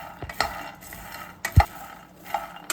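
Groundnuts, garlic and curry leaves roast in a pan, with a few separate clinks and scrapes of a stirring spoon against the metal over a faint steady background.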